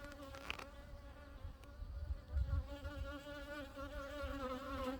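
Honeybees buzzing around an opened backyard hive, a steady close drone with wavering pitch as individual bees pass near, low rumble underneath.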